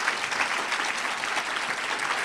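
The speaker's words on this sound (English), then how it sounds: "I will applaud." An audience at an award ceremony for a courageous leader applauds, a steady, moderately loud wash of clapping that holds evenly throughout without speech.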